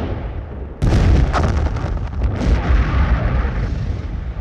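A bazooka blast at a narco party: a sudden heavy boom strikes and then rumbles on in a long, loud, rolling roar with scattered crackling bursts, and no voices are heard.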